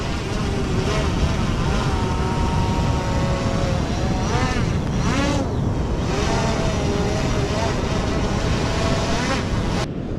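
An Aeroo Pro fishing drone takes off and climbs away at Waiuku, Auckland, New Zealand. Its steady, loud buzzing whine runs the whole time, with rotor pitch sweeping up and down as it gains height, and a voice briefly joins in.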